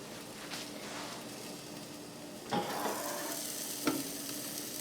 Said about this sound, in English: Guys, hear that? Sizzling.